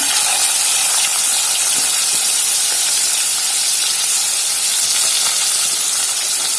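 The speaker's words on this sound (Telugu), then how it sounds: "ఉల్లిపాయలు కూడా మంచిగా వేగాలండి" Thinly sliced medium onions fry in oil with fenugreek seeds for a mango chicken curry, giving a loud, steady sizzling hiss that never lets up.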